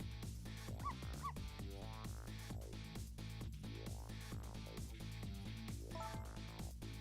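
A dog barks, yips and whimpers in the Ghost Trick: Phantom Detective video game, a string of short game-sound barks over steady background music with no voices.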